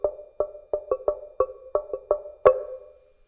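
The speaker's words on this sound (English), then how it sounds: "Here's a small one. Sounds like this, much higher, of course." A small African log drum, high-pitched, struck about ten times in an irregular rhythm, each hollow wooden knock ringing briefly, the last hit harder and longer, close and alone.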